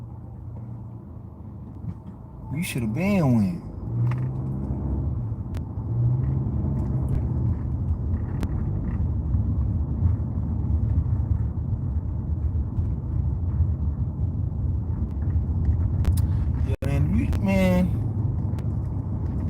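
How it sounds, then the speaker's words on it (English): A car drives past, a low rumble swelling through the middle and fading, while someone talks over it and a couple of sharp noises stand out near the start and end. "What is this car doing?"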